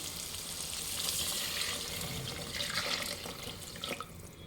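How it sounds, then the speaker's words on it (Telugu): Six cups of water pour steadily into a cooking pot holding rice for mutton biryani, a continuous close splashing gush that runs alone for several seconds and eases slightly near the end. "ఈ 6 కప్స్ వాటర్ని దీంట్లో యాడ్ చేద్దాం"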